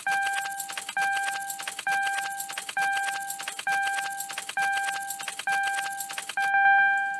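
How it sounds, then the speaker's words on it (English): A key cycled repeatedly in the ignition of a Mercury Grand Marquis, with keys jangling and a chime-like tone pulsing in eight quick, evenly spaced bursts, close and clear, ending in a longer held tone. "You just put the key in the ignition, cycle it, accessories off,"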